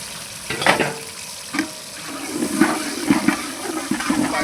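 Onions hit hot oil in a large pan for a spicy Godavari-style goat head curry, sizzling and bubbling steadily with several louder splashing bursts, close and without talk.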